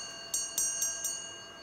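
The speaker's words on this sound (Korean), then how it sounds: "이번에는 두부 종소리입니다." A tofu vendor's hand bell rings four times in a quick, even sequence of bright metallic clangs over a steady high hum, close and clear with no voices.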